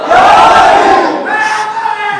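A large crowd at a religious gathering loudly chants its answer to a slogan, one sustained collective shout that swells and then trails off.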